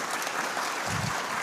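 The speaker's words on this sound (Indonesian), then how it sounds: "Boleh tepuk tangan buat semuanya." Audience applause at a political speech during a national working meeting, a steady broad wash of clapping from a large crowd, loud and continuous throughout.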